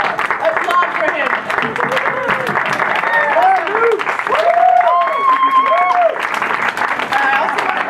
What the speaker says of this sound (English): applaud for him.